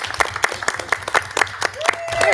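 Scattered applause from a school committee meeting audience, uneven individual claps with cheerful voices mixed in, rising into louder clapping at the end.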